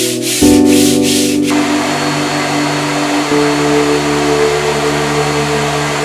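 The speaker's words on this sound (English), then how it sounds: "Sanding on the boom before I put on the second coat of epoxy" A power sander starts up and runs steadily with a loud, continuous droning whir and a rough rasp against an epoxy-coated wooden catamaran boom.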